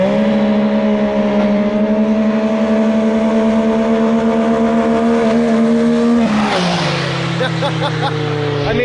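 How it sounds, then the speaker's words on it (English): A race car engine bounces on the rev limiter during race prep, a loud, steady, droning tone that shifts abruptly after about six seconds into a rougher, lower note with some squealing noise. "It seems like he hit the rev limiter."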